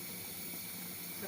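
A pot of vinegar pickle liquid with salt coming to a boil gives off a steady, faint hiss and bubbling simmer, continuous and even throughout with no voices over it.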